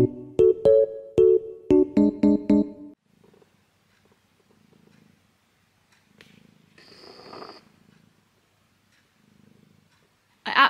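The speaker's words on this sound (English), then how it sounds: "Absolutely love the sound of his purring" A house cat purring indoors, a soft, low rhythmic rumble in faint repeating bursts, following a few seconds of louder tonal sounds at the start.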